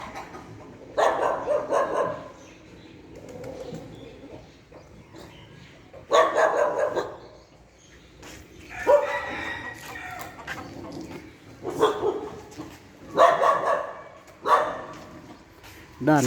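Several dog barks come in bursts spread across the scene, mixed with bantam chicken clucks, outdoors at a temple merit-making fair at Wat Ban Sala, Phanat Nikhom, Chonburi, Thailand, at moderate distance with a quiet background between.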